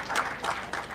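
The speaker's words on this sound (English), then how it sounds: "Ladies and gentlemen, Lydia, a round of applause as Lydia comes in." Audience applause at a waste power plant launch as CEO Lydia Naiga walks onto the stage, a brief burst of clapping from a crowd, fairly loud and close, with no talking.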